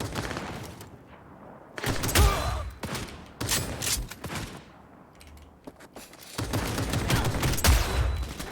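Bursts of automatic gunfire ring out in Cyberpunk 2077, dense rapid volleys in several clusters separated by brief lulls, loud and close with booming low-end thumps.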